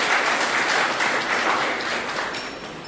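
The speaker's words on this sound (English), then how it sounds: "a big round of applause for all the women entrepreneurs in the country" A crowd applauds steadily, a dense wash of clapping that holds for about three seconds and eases slightly toward the end.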